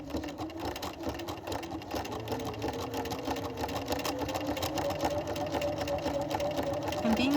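A sewing machine stitching a buttonhole in fabric runs continuously at a steady, moderate pace, its mechanical whir and rapid needle clatter close and clear, with a rising whine at the end.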